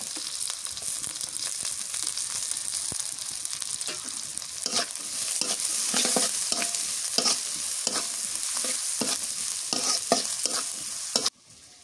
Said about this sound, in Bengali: মরিচ পেঁয়াজ ভাজা হয়ে গেছে